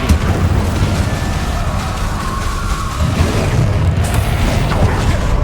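Incendio fire spell blasts in the Hogwarts Legacy video game: a loud, dense, rumbling fiery boom that roars steadily for several seconds with a fresh burst near the end.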